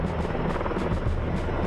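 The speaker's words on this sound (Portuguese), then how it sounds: "Junto com eles vieram os helicópteros com cestos de armazenamento de água." Firefighting helicopters carrying water buckets over a wildfire, their rotors beating in a steady, loud, continuous chop that fills the whole moment with no voices.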